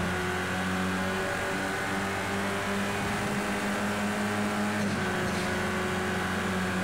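Renault Mégane race car in Project CARS 2 on the Nordschleife, a steady loud engine drone with harmonic whine, rising and shifting pitch around a gear change midway, continuous throughout with no talking.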